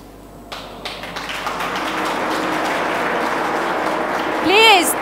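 An audience at an IAS aspirants' talk, during a ceremonial lamp lighting, builds into steady clapping after a quiet start, with a voice rising over it near the end.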